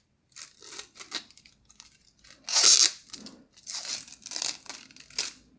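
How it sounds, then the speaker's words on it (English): Protective film is peeled off a white Zotac RTX 4060 Twin Edge graphics card, heard as close, irregular crinkling and tearing rips, with one louder pull in the middle. "Let me just peel it off."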